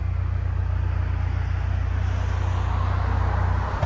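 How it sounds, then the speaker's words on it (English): A Hyundai Sonata N-Line with a 2.5L engine and Valvetronic mufflers idles with the valves closed, giving a steady, low, quiet exhaust drone and rumble that holds evenly throughout. "added 2 Valvetronics mufflers. This is with the valves closed"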